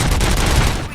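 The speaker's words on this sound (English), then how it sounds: "Gunshots?" Rapid gunfire from the RoboCop: Rogue City video game rattles in a fast burst of close, loud shots over about a second, dense enough to sound like a fusillade.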